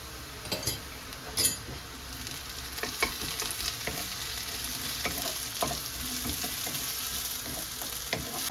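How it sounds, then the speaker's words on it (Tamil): Onions and ginger frying in hot tempering oil for a squid curry, a steady close sizzle with the scrape and clink of a spoon stirring the pan now and then. "வெங்காயம் நல்லா வதங்கி வர போடுவோம் போட தான் கொஞ்சம் கருகாமல் டேஸ்ட்டாக இருக்கும்"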